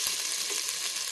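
Crushed ginger hitting hot oil with cardamom and fennel seeds for a vegetable biryani, a brief soft hiss and crackle, close but quiet.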